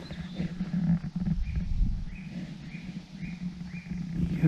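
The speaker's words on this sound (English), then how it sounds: "Get a sense of what it's like, listening to the bird song." Birds sing along a countryside trail near Llangollen, a repeated short chirping phrase sounding every second or so, moderately near, over a low rumbling background.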